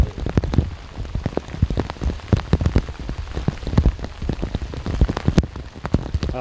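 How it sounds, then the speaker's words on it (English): Heavy rain from a severe thunderstorm at a lake pounds steadily on a nearby surface, a dense patter of drops with sharp individual splats throughout. "We got 60 minutes of severe rain and thunderstorm."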